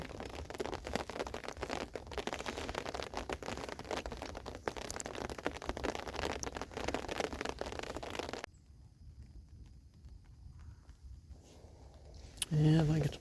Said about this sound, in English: I think this is just going to be a little bit of a shower, kind of a light sprinkle here.